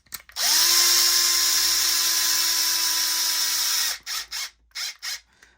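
A small power drill or driver runs a bolt into a Mugen RC car rear differential, a steady high whine holding for about three seconds, then stopping, followed by a few short clicking, ratcheting bursts.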